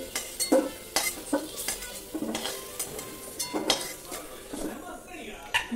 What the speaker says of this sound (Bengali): আমি এখন আলুটা তুলে নেবো এই প্লেটটা